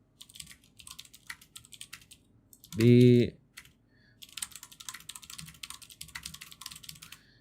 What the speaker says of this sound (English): The typing, ASMR typing.